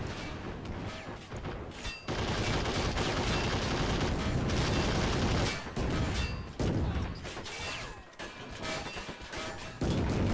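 Heavy battle gunfire from the toy-soldier war game Army Men of War, with dense overlapping shots, crashes and explosions rolling almost continuously, broken by a few short lulls.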